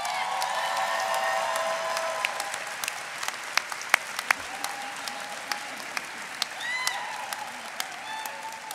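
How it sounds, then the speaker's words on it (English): A large audience at a law school commencement ceremony applauds faculty and staff, a broad steady wash of clapping with a few sharper claps standing out, lasting throughout without speech. "Let's give our faculty and staff a big round of applause"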